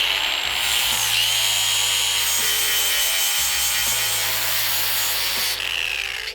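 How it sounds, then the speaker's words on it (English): A grinder is held close as it works down a small metal nub on a car part during a V8 3UZ engine swap build. It gives a loud, sustained high-pitched whine and rasp, pausing briefly twice before cutting off at the end. "we're essentially just gonna try to grind down this little nub right here"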